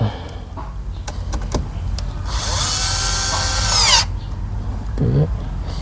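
A power tool tightens a part while cruise control is installed in a Toyota Vios. Some clicks and handling noises come first, then a loud whirring run of nearly two seconds, then a brief lower whir near the end.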